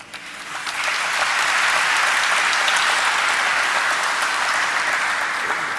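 An audience at the idea Forge Technology stock listing ceremony breaks into loud, sustained applause, rising quickly within the first second and holding steady, dense clapping throughout.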